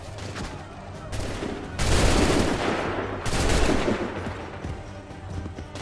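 Musket volleys crack in Assassin's Creed III, bursts of massed gunfire rising in two loud waves over a rumbling battlefield background.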